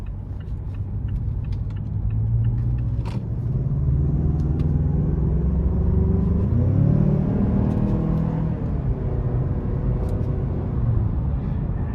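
A 2021 Mazda CX-9 Touring Premium with the 2.5-litre Skyactiv-G turbo four-cylinder and six-speed automatic, heard from inside while driving: a steady low engine and road rumble with a tone that climbs and falls midway, no talking.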